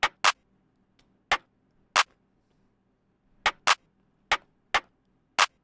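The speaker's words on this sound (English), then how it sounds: "It says clap here, but I've used it as a rim shot." A clap sample doing the job of a rim shot in a melodic trap beat snaps out in short, dry, sharp hits, some in quick pairs, on a sparse syncopated pattern with silence between.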